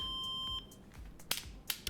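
A multimeter continuity check in Car Mechanic Simulator 2021 gives a steady electronic beep for about half a second, followed by faint clicks and soft knocks at low volume.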